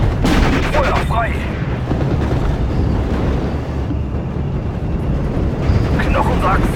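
Heavy battlefield gunfire and artillery in the World War II strategy game Steel Division, a loud continuous barrage of shots and booms with brief voice chatter mixed in.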